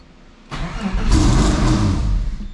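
A Subaru SVX engine cranks and catches after a quiet start, then runs loud and close with a rough, steady rumble.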